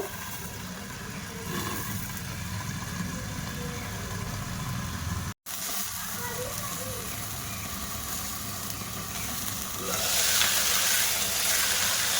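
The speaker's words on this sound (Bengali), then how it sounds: "পেঁয়াজ কলিটা ভাজা করা হয়ে গেছে" Onion stalks fry in oil in a covered pan, giving a steady muffled sizzle throughout that briefly drops out midway and grows somewhat louder near the end.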